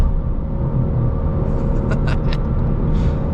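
A 2025 Ford Mustang EcoBoost drives along at raised revs, with a loud, steady engine drone and road rumble heard from inside the cabin and a few faint clicks and taps over it, with no talking.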